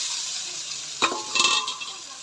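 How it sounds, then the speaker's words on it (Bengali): Fried potatoes drop into sizzling spice masala in a pan for aloo dum, a sudden burst of frying hiss and clatter midway, then stirring and crackling close by over a steady background sizzle. "মশলা কষানো হয়ে গেছে, এবার ভেজে রাখা আলুগুলা দিয়ে দিব।"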